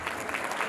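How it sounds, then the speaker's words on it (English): Audience applause at a community celebration honouring achievers, a brief steady patter of many hands clapping, moderately distant and fairly quiet, with no voices over it. "I would like us to give him a big round of applause before he comes to stage"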